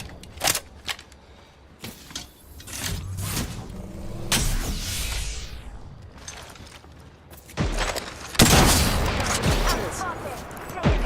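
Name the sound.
gunfire in a video game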